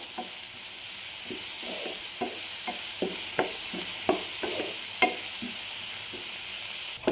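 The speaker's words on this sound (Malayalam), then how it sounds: "ഇഞ്ചിയും വെളുത്തുള്ളിയും ചെറിയ കഷ്ണമായി അരിഞ്ഞത് കൊണ്ടാണ് ആദ്യമേ തന്നെ സവോളയോടൊപ്പം ഇട്ടത് ഇത് നന്നായി ഒന്ന് വഴറ്റിയെടുക്കാം" Chopped onion, ginger and garlic sautéing in a pan: a continuous bright sizzle and hiss, with a spatula scraping and tapping at irregular intervals, close and moderately loud, with no voices.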